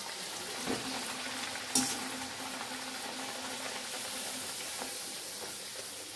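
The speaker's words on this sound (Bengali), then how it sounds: "তো চলো তাড়াতাড়ি লুচিটা ভেজে নিই" Luchi flatbread deep-fries in hot oil with a steady, close bubbling sizzle and a few clicks and clatters from the utensil against the pan.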